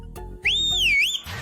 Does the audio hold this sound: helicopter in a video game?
no